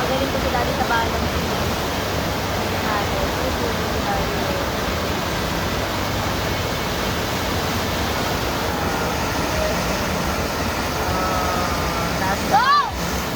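A water park shower at Aqua Planet pours water in a loud, constant splashing rush, with people's voices faintly mixed in.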